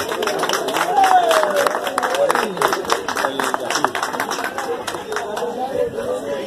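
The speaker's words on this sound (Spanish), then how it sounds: "Fuerte el aplauso para ellos" Applause from the audience at an award ceremony for winners of a Christmas charity race in Tonalá: a dense, continuous patter of clapping with crowd chatter mixed in, steady and moderately loud throughout.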